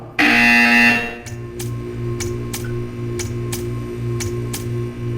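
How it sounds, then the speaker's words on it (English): A buzzer sounds loudly in the Portal 2 video game for about a second, followed by a steady electronic hum and a regular ticking that repeats at an even pace. "You will hear a buzzer."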